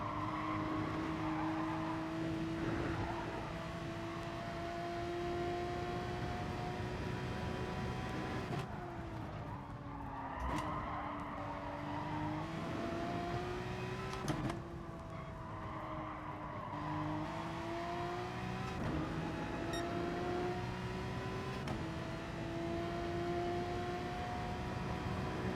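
A Porsche race car in Gran Turismo Sport roars continuously at high revs, its engine pitch climbing and dropping through gear changes, with occasional tire squeal and no talk.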